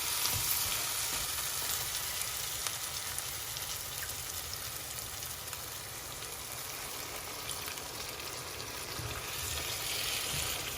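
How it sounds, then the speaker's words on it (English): Boiling water poured into a hot pan gives steady, loud sizzling and crackling, a dense hiss like frying that continues unbroken throughout with no voices. "So it's boiling water that we're putting in there."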